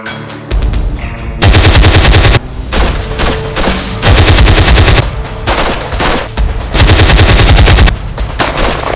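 Loud bursts of automatic gunfire from soldiers defending a border post, long rapid volleys broken by brief pauses, close and dense with no talk over them.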